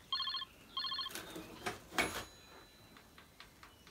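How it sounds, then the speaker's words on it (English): Two quick bursts of an electronic telephone-style ring in an abandoned cottage, followed by soft clicks and knocks in a quiet room. "can you hear that ringing?"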